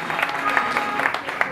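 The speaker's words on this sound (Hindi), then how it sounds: "तो फिर एक बार जोरदार तालियां बजाए" A crowd claps briskly and steadily at a cultural program in a Jain temple, a dense patter of applause close by.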